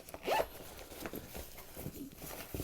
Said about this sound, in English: and they zip up